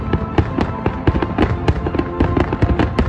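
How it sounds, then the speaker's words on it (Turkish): A New Year fireworks display in Riyadh crackles with a dense run of sharp bangs and pops, loud and rapid, with no talk over it. "Başkent Riyad'da havai fişek gösterileri düzenlendi."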